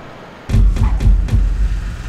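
Large bus engine from a GTA San Andreas sound mod, starting abruptly and running loud and close with a deep, rumbling low-end drone and several rhythmic surges, with no talk.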